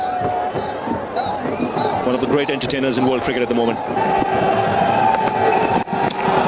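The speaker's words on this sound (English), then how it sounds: "this large crowd here today, a very noisy crowd" Cricket fans in a large, noisy stadium crowd produce a steady roar of cheering and hubbub throughout, heard under a commentator's continuous talk.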